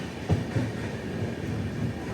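The Prasanti Express, train 18464, rolls into platform 3 at a station, a low, steady rumble of railcars with faint rhythmic wheel thumps, heard from on board.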